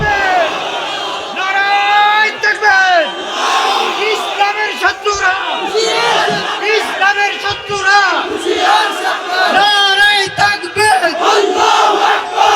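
A large crowd at a religious rally chants takbir in loud rhythmic call-and-response bursts, voices roaring together over and over, filling the space.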